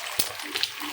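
An egg cooking in a hot pan beside flatbread, giving a steady close sizzle with a short sharp crackle burst near the start and a couple of fainter pops later.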